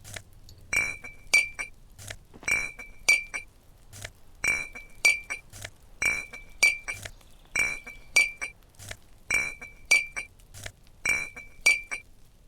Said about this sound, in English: that glass clinking sound goes straight through my brain